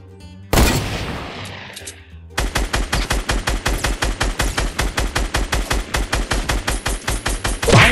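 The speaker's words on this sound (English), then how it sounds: "Why am I missing all those shots?" Rapid gunfire in the video game Fortnite, from a pistol-only match: a loud burst opens, then a long steady run of evenly spaced shots fires in quick rhythm, close and punchy.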